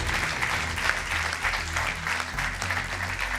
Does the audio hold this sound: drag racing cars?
no